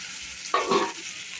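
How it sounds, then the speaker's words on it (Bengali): Potatoes and prawns hit a pan of spiced masala and fry, a brief sharp burst of sizzling with stirring rising over a steady hiss, then settling back to a softer crackle. "সমস্ত মশলা ভালো করে কষি নেওয়ার পরে দিয়ে দিলাম আলু আর চিংড়ি"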